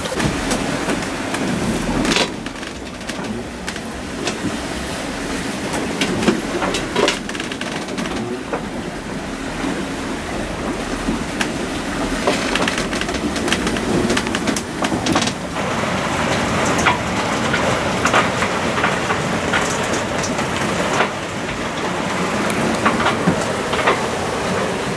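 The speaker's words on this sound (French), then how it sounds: "C'est fascinant quand on est au portant même, comme les vagues nous rattrapent." Ocean waves and wind rush steadily around a sailboat running downwind on an Atlantic crossing, a continuous loud wash of water with no voices.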